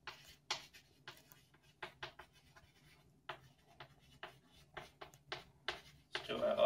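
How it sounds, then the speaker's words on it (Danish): Pen strokes scratching across paper or a whiteboard during a maths lesson, coming in short irregular bursts with pauses between them, moderately close, with a brief louder rustle at the end. "Skriver jeg også lige en gang."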